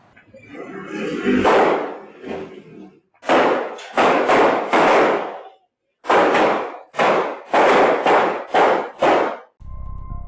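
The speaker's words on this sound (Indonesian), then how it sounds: "Video CCTV ini merekam jelas suara baku tembak" A rapid exchange of gunshots, loud distorted bangs in clustered bursts with brief pauses, captured by a low-quality CCTV recording.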